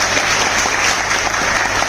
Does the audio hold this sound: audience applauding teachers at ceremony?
yes